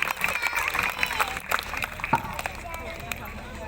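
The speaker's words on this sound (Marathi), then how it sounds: "जोरदार टाळ्या झाल्या पाहिजेत माननीय अक्षय सर यांच्यासाठी" An audience at a ceremony claps in scattered, irregular bursts, with a voice speaking over the applause and crowd murmur throughout.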